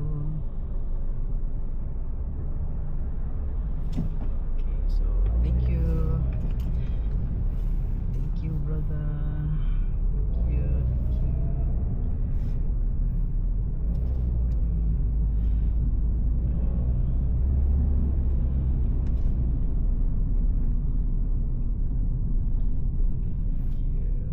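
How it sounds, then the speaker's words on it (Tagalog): Continuous road traffic in New Zealand rumbles by, with low engine drone from passing cars and buses and an occasional air-brake hiss, and a voice speaks now and then. "Traffic dito."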